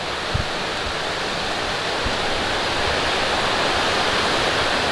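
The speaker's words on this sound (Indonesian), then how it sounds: "Di depan macam ada air terjun lagi." Waterfall at Kitomoling in Tambunan, on a mossy, damp forest trail, roars in a steady, dense wash of falling water that stays loud and unbroken throughout, with no voices.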